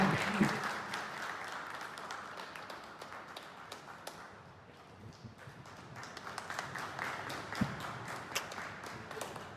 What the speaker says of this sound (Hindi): प्लीज उनके लिए भी जोरदार ताली के साथ स्वागत करें